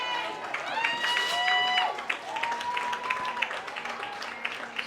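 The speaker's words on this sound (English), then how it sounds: "Good applause, good crowd here today in Echelon Park." A crowd at a junior football final in Echelon Park applauds as teams march around, a diffuse spread of clapping under a commentator's voice, with a brass-like melodic tone sounding in the background.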